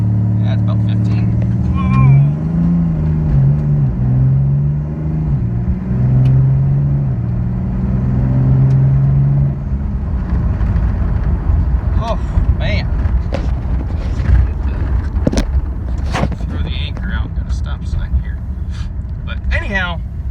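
A truck fitted with ATS Co-Pilot tuning for its 68RFE automatic transmission launches and accelerates, a deep, loud engine rumble building and shifting while voices talk over it inside the cab.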